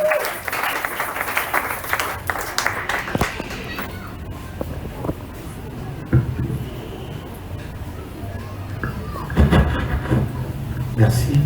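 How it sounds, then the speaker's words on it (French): A church congregation applauds loudly at first, then the clapping thins out under a voice speaking French, with scattered claps and a brief swell of crowd noise near the end. "sous vos applaudissements,"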